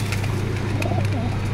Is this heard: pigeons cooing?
yes